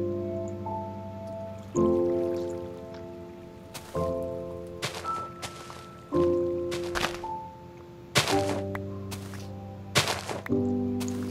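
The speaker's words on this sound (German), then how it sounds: "Hier ist mal ein bisschen Wasser." Water in the Minecraft video game makes a steady soft trickle and flow, punctuated by several separate splashy bursts and the occasional plinking tone, with no voice.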